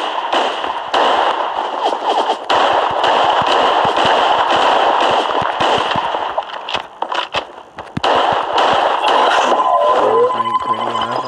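Shotgun and other gunfire from the Creative Destruction battle game, a loud, near-continuous crackle of rapid shots broken by brief pauses, with electronic game tones near the end.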